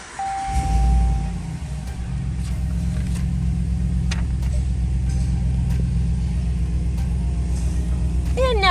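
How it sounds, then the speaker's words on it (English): Push-button start of a 2020 RAM 1500 Big Horn pickup, heard from the cab: a brief chime, the engine cranking and catching with a surge, then a steady low idle rumble with faint clicks. "the engine is running and the dashboard's lit up"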